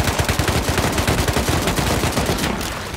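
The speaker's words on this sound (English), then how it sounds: "Oh my god, the freaking guns, bro." Rapid automatic gunfire from guns in a multiplayer video game, loud and continuous bursts of shots with a dense, rattling rhythm that tails off slightly at the end.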